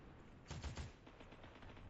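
A quick burst of several gunshots rings out in the Fortnite video game, fired in rapid succession at moderate distance, followed by low background game noise.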